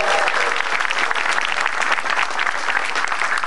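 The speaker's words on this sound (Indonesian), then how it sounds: "Tepuk tangan dulu buat Metro TV dong." Loud, dense audience applause at a stand-up comedy show, continuous clapping from a crowd for a few seconds with no talk over it.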